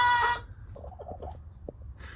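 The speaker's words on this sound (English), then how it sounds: "Gotta love chickens" Chickens on a farm cluck in short, soft bursts close by, with a brief louder squawk at the start and a steady low background hum.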